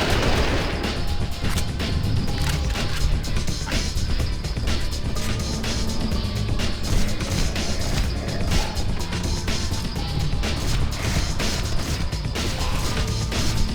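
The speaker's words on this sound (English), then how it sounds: "the machine gun doesn't do that much damage to him" Rapid machine gun fire in Hunter: The Reckoning, loud continuous bursts mixed with crashing impacts and combat clatter for the whole stretch.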